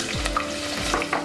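Chopped green chillies, onions, curry leaves and dried red chillies sizzle in a pan with stirring scrapes, a soft steady fry with two brief louder stirs, no one talking.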